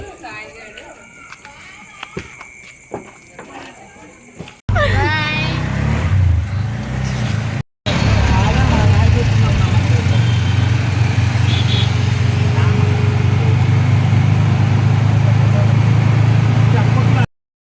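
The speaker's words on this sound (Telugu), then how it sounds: "ఆటో అయితే ఆల్రెడీ వచ్చింది" Auto rickshaw engine chugging steadily and loudly up close in a Vijayawada street, preceded by quieter outdoor clatter and a person talking.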